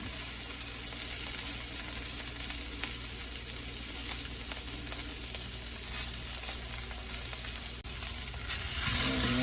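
Venison backstrap searing in a hot pan, giving a dense, continuous sizzle that stays steady and close, then grows slightly louder near the end, with no voices.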